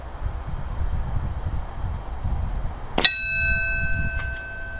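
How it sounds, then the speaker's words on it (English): A diabolo air gun pellet strikes a metal bell target once, giving a sharp ping that rings on in a clear sustained tone over soft wind rumble, with a faint second tick moments later. "Ringing that bell."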